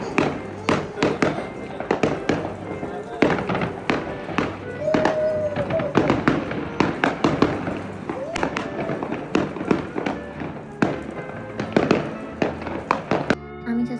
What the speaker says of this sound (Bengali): ও বাজি ফুটানো দেখতে অনেক মজা পাইতেছিল